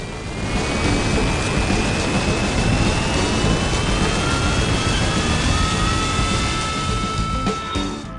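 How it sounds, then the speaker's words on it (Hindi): A large airplane speeds down the runway and climbs away under a bright blue morning sky, its broad steady roar filling the scene with whining engine tones gliding slowly in pitch, loud and continuous throughout. "हवाई जहाज शक्तिशाली ढंग से उड़ान भरता है, ऊंची उड़ान भरता है"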